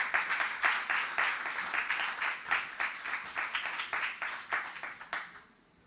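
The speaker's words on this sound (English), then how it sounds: "let's give a round of applause for Miss Jane Campbell" Audience applause welcoming a guest speaker at a book talk: steady, moderately close clapping from a modest crowd, individual claps distinct, holding then tapering off toward the end.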